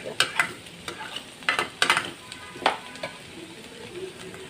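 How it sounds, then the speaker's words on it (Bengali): Sliced bitter gourd fries in oil while a spatula stirs and scrapes the pan in a handful of sharp strokes over a soft continuous sizzle, heard up close without voices. "এরকম সবুজ সবুজ থাকলে কিন্তু করলা ভাজি খেতে ভালো লাগে"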